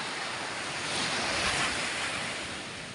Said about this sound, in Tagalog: Nandito po ako sa tabing dagat.